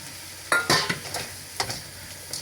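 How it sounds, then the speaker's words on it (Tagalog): Eggplant sautéed in a pan, a handful of short scraping stir strokes and soft sizzles, close and fairly quiet, spread over a couple of seconds. "Igisa din natin yung ating talong"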